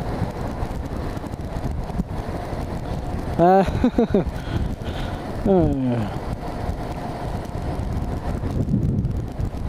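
Wind roars steadily across the microphone on a fast UK motorway ride on a motorcycle with the visor up, a constant close buffeting broken by brief engine or horn tones, with no talk.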